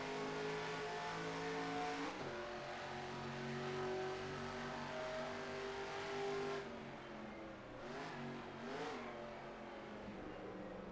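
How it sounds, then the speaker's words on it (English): Race car in a racing video game, engine droning with shifting revs as the brakes are applied and the tires screech into a corner, the tone dipping and wavering near the end; no talking. "You can hear the brakes kind of screeching the tires"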